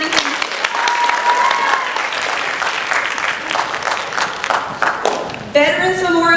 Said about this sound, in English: One more round of applause for the Newton County Theme School.